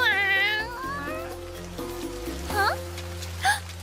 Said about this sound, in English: found a stray cat drenched in rain and shivering